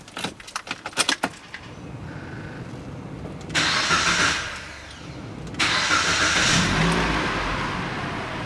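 A Mitsubishi ASX 1.8 with a P0301 misfire fault cranks with a rapid series of clicks and then starts. The engine settles into an unsteady idle that rises and falls as the revs wander, with no talking.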